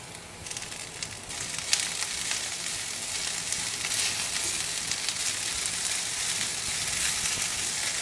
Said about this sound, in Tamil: சிம்லேயே வச்சு இது வதக்கணுங்க